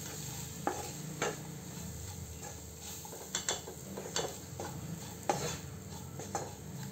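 Spices roasting with stuffed bitter gourd in a pan give a soft, quiet sizzle, punctuated by a handful of light scraping clicks as a spoon stirs them, with no talking.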